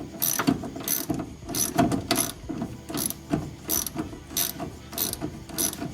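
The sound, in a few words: tightening sway bar bolts with a ratchet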